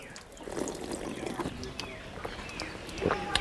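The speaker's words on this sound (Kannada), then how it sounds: "ಬಂದೇ ಬಿಡ್ತು ನೀರು, ಜಾಸ್ತಿನೇ ಬಂದ್ಬಿಡ್ತು." Water gushes and splashes from a hand pump in a steady nearby flow, with a person talking over the running water.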